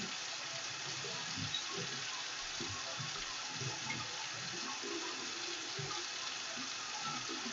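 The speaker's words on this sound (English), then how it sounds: "And keep washing my hands for 30 seconds." Running tap water over hands being washed at a sink, a steady soft hiss with faint irregular splashes and rubbing, quiet and continuous with no talk.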